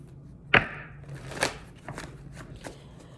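Energy Oracle deck cards being shuffled, one sharp riffle followed by softer flicking and sliding card sounds, close and fairly quiet.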